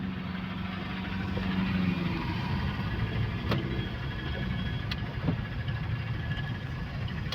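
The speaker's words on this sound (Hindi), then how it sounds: "अगर कुछ गाड़ी वगैरह का आवाज़ आए तो प्लीज़ इग्नोर कीजिएगा उसे।" Car and traffic noise heard from inside a car, a low steady engine rumble with road hum, a few faint clicks and rattles, no talking.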